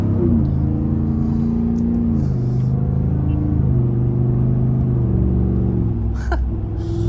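Deep, continuous engine rumble of a Ford Raptor pickup heard from the cab on the road, its pitch shifting gently as it revs, with faint clicks near the end.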